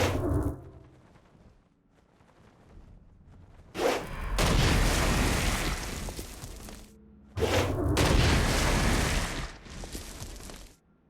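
Stone Blast explosions and gunfire in the game Saints Row: Gat out of Hell: two long, loud bursts of booming blasts and rapid shots, each lasting several seconds, with quieter thuds between them.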